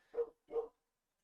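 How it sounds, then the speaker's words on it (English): A dog barks twice in the background, a pair of short, muffled barks about half a second apart, faint and distant in an otherwise silent space. "Oh, you can hear that barking."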